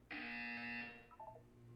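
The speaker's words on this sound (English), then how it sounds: "You will hear a buzzer." A loud electronic buzzer in Portal 2 sounds as one steady tone for about a second, then gives way to a few short, fainter tones.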